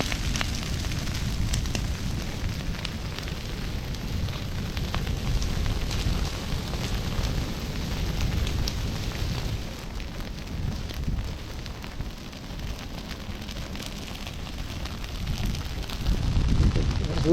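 Prescribed burn fire spreading with the wind behind it, a steady broadband crackling roar with low rumbling wind noise running throughout, swelling slightly near the end.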